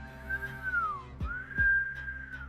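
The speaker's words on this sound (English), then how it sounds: "Inhale, exhale through the mouth in a whistle" Two long, steady mouth whistles exhaled on a single pitch, the first sliding downward at its end, with a brief breathy pause between them.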